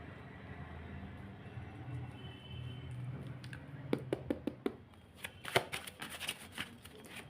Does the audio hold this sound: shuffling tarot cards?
yes